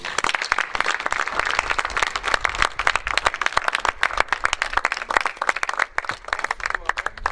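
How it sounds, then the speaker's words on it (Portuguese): Church congregation applauding during a Portuguese-language sermon, dense sustained clapping for several seconds with scattered voices mixed in. "Um grande salva de palmas para Jesus."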